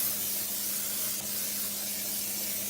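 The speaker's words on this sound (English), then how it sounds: "I'm going to spray them very well with some cooking spray." An aerosol can of cooking spray is sprayed in a kitchen, giving a continuous, close, steady hiss that lasts throughout, alone with no talk over it.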